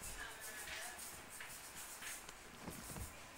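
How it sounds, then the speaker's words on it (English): Faint shuffling footsteps in PlayerUnknown's Battlegrounds, soft irregular scuffs and steps over a quiet ambient bed, with a few sharper taps near the end and no talking. "I hear footsteps."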